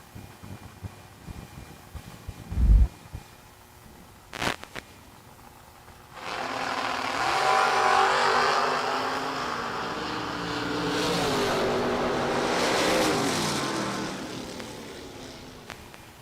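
Two drag cars, a 1967 Cougar and a 1992 Camaro, launch side by side at a FuelTech season opener, a short staging blip giving way to a loud sustained roar that swells, holds and slowly fades over several seconds.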